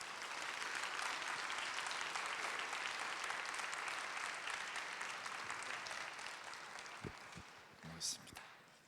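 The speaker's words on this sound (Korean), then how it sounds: "나오실 때 우리 박수로 환영하도록 하겠습니다." Audience at a church teachers' retreat applauds to welcome a pastor as speaker, steady dense clapping that slowly fades, followed by a few thumps and brief speech near the end.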